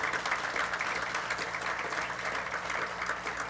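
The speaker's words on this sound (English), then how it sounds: "Let's give Janet another round of applause" Steady, sustained applause from a conference audience at a plenary session of a governors' summer meeting in Maine, a dense even clatter of many hands lasting throughout with no speech over it.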